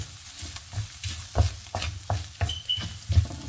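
A spoon stirs beans in a pan with turmeric powder and coconut oil for a stir-fry, giving repeated scraping strokes about every half second over a soft sizzle, close and fairly loud with no voices.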